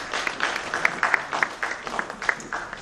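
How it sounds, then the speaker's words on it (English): Audience applause at an eGovernment summit session as a presenter walks to the podium: steady, fairly distant clapping from a crowd, with dense overlapping claps continuing throughout and no talk over it. "Please applaud Wibat Ijaya."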